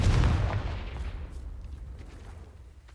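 A Confringo fire-blast spell from Hogwarts Legacy goes off with a loud, close boom at the start, then rumbles and decays into a low, fading roar.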